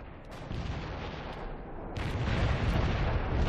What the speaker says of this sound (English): I gotta get out of the way of the artillery first